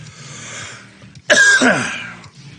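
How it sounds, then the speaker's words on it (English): One harsh, raspy cough sounds close up, preceded by a soft breathy noise and trailing off into a rough throat-clearing rasp. "got a little bit of a cough"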